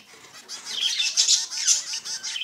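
Finch chicks in a nest give rapid, high, rasping begging calls, a continuous near chatter of overlapping squeaks rising and falling in loudness.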